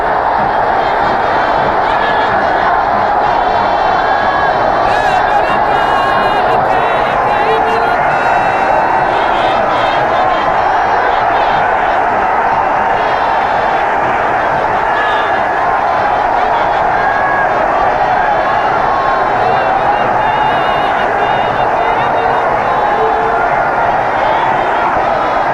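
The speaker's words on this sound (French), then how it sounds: "Entre au stade du 28 septembre sous les acclamations du public." A large crowd at the 28 September stadium in Conakry, Guinea, cheers the 1977 Hafia FC team entering, a steady, dense roar that holds loud and unbroken throughout.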